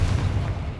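A Confringo blasting spell explodes in Hogwarts Legacy, a short, loud, booming burst with a heavy low rumble that fades quickly.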